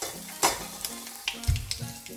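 Ingredients for a gnocchi pasta dish frying in a pan, a low sizzle broken by several scraping stirs and light clanks, close and alone without talking.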